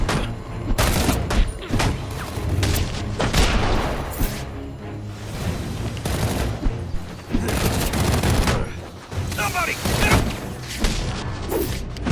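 Gunfire in the Xbox 360 game Batman Arkham Origins, heavy clustered volleys and bursts with booms and thuds, loud and repeated throughout, with no talk.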